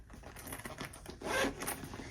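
A recessed zipper on a handmade sewn bag is handled up close, giving short, quiet scratchy rasps with one louder pull near the middle, and no talking.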